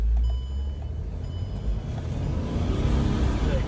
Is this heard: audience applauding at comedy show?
no